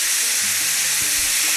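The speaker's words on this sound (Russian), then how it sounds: "Кусочки наши обжариваются." Pieces of meat fry in vegetable oil over high heat in a pan, making a dense, continuous, close sizzle with faint clinks of stirring beneath it.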